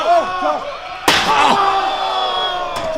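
A sharp, loud metallic slam rings out as steel chairs are driven onto a wrestler's arm at a live wrestling match, with commentary and crowd noise around it.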